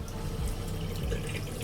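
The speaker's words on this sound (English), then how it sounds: "and then we turn on the hot water line." Hot water runs from a bathroom tap fed by a tankless water heater, a steady, loud, close rushing flow that does not change from start to end.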